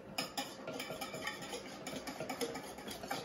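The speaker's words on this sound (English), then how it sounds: "Then we are going to whisk in our flour mixture." Flour mixture whisked into a grapefruit cake batter in a bowl, a steady run of quick, close clinking strokes of the whisk against the bowl lasting the whole time, fairly quiet and with no talking.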